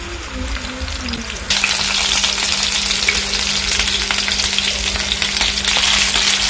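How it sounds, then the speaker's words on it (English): Loud, steady sizzling of meatballs shallow frying in oil, starting abruptly after a short murmur and crackling continuously up close. "I'm going to be shallow frying these meatballs"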